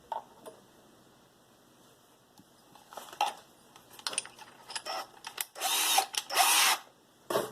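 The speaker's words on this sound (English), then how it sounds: "I'm just going to drill a hole right now." A power drill whirs in short bursts through a guitar body, stopping and starting, ending in a louder sustained spin near the close.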